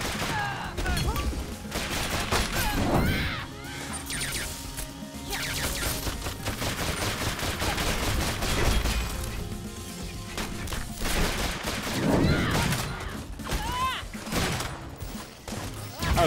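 Constant gunfire and impacts in the action game Full Metal Furies, a dense barrage of shots and thuds with game music running throughout, occasionally under voices.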